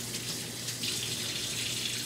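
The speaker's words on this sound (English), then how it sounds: "it's always a good thing to rinse your hands down" Tap water runs steadily into a kitchen sink while hands are rinsed under the stream, a continuous close splashing hiss with no talking.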